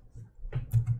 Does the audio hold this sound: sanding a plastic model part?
no